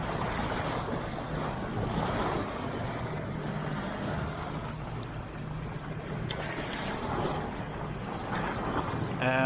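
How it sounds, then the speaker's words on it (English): A sailing yacht runs across a gentle Atlantic swell off the west of Spain, giving a continuous rush of water along the hull mixed with heavy wind noise and occasional splashes, loud and close. "we're running across this really nice Atlantic swell"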